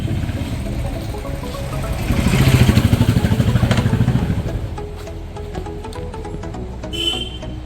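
A Yamaha R3 motorcycle being ridden, its engine a steady loud drone that swells for a few seconds before settling back, with wind rush throughout.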